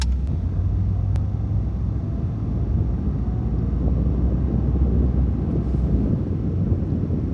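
Inside a 1992 Mercedes-Benz 190E 2.6 with an old automatic gearbox, a steady low engine drone and rumbling road noise fill the cabin at a constant loud level while cruising, with no talking.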